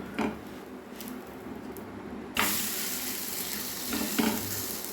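Dough sizzling steadily as it fries in a pan for a breakfast tiffin, with a sharp clatter of the spatula near midway as the piece is flipped, followed by louder, fuller frying.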